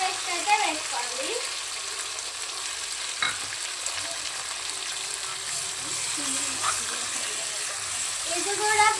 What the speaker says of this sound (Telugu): ఇది కూడా ఫ్రై అవ్వాలి బాగా.